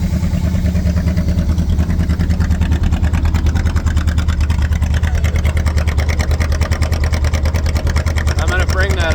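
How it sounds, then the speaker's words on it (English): A 1968 Buick Wildcat, after sitting for 45 years, runs loud and close with a steady, throbbing engine drone and a rapid pulsing exhaust note that holds fairly even throughout. "sounds like she's warming up. She's getting some RPM in her now."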